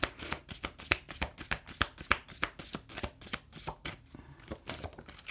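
Tarot cards are shuffled and drawn in a quick, rhythmic series of crisp riffling slaps and flicks, close and fairly loud, with a short pause near the end.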